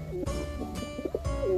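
Pigeon cooing up close, a series of soft throaty coos repeated over a second and a half with no other sounds around.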